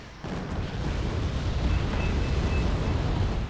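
Mortar shells exploding in the video game Wargame Red Dragon, a sudden heavy blast followed by a sustained low rumbling roar that stays fairly constant to the end.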